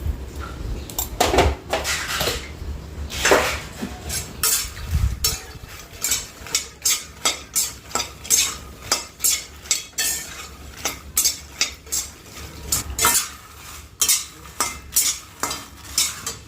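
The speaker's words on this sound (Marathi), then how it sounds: "मंद गॅसवरती ना थोडेसे असे क्रिस्पी होईपर्यंत भाजून घ्यायचे" Makhana roasting in ghee in a clay pot, stirred with a spoon in a steady run of close, rhythmic scraping strokes against the pot, a soft sizzle beneath and no talk.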